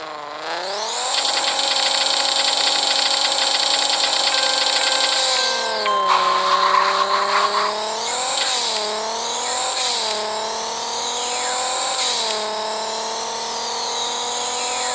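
A race car in a driving video game screams down the track at full throttle, its engine whine climbing through repeated gear shifts with brief dips and rises, loud and continuous throughout.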